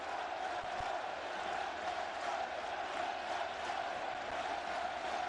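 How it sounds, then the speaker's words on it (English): Baseball crowd at Miller Park during the 2002 All-Star Game, a large distant mass of voices chanting and yelling in a sustained, faint roar with no clear breaks. "the crowd yelling, "Let them play.""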